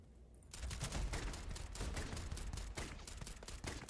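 Rapid automatic gunfire from a weapon fired from the hip in the video game Starfield, a dense, loud continuous burst that starts after a brief quieter moment and runs steadily to the end.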